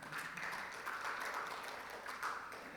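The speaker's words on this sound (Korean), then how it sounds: "이 대목에서 박수 한번 쳐줘야 되지 않겠습니까?" Applause from a church congregation during a sermon, a steady, moderately distant wash of many hands clapping that holds evenly for a few seconds.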